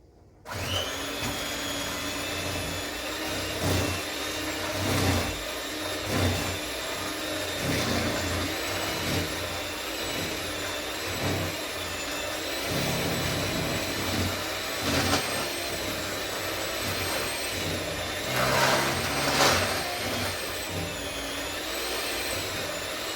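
An electric mixer runs without stopping as it beats spiced hermit cookie dough, giving off a steady motor whine and hum with slight rhythmic wobbles as it works the mixture.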